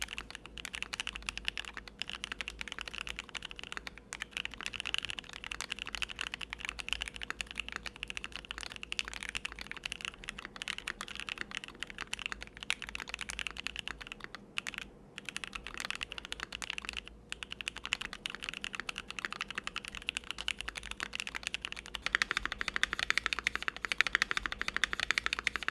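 A modded Keychron Q1 mechanical keyboard is typed on steadily and close up, giving a fairly quiet, continuous patter of key presses with no one speaking.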